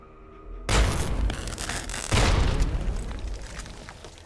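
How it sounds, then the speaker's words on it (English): Explosion of a rigged terminal in the game Fallout, a sudden loud booming blast followed by a second rumbling burst and a long, dense roar that slowly fades, with no voices. "we must have blown up that rigged terminal. That was that other explosion."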